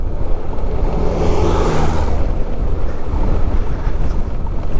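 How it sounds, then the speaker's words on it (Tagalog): Strong wind buffets the microphone on a rural bypass road in Laguna, a loud, continuous roaring rumble with no talk. "Lakas ng hangin eh."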